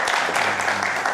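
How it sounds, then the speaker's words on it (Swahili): Audience applause at a live Kenyan TV talk show studio, steady dense clapping filling the whole moment without a break. "Pigeni makofi."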